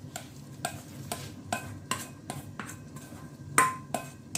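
Frozen leeks get stirred into a pot of cooking pondu (cassava leaves), with soft rhythmic scrapes and occasional light clinks of a utensil against the pot, repeating roughly every half second.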